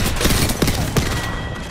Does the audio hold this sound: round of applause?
no